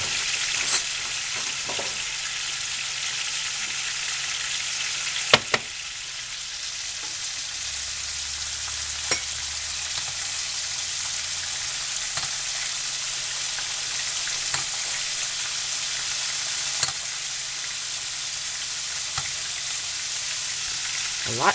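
Pork fried rice sizzles in plenty of oil in a pan, a constant close frying hiss broken by occasional sharp clicks and scrapes of stirring.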